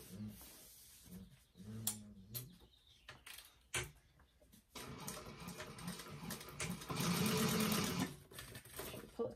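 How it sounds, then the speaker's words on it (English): A sewing machine top stitches a bag seam with a narrow allowance, starting in short bursts of whirring stitches and then running in a longer steady buzz, heard close without talk. "we're going to top stitch along that with an 1/8 inch seam allowance"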